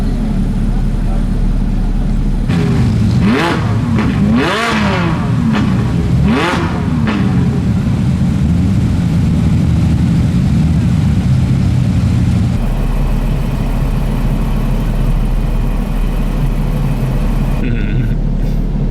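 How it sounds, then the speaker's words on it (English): Supercars leaving a Cars and Coffee meet in Brescia, with loud engines revving and accelerating past in several close bursts over a steady heavy traffic rumble. "let's watch these cars exit and hit the road"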